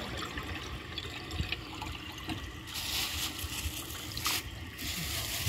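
Eljer Windsor Lowboy toilets flush together with a steady rush of swirling water that swells louder partway through, close and continuous with no talk.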